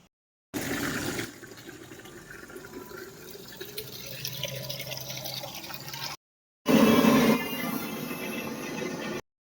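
Water runs from a tap at a drivers' water filling spot at a large company. The steady flow comes in two stretches split by a short silence, and the second is louder, with a splashing fill. No voices.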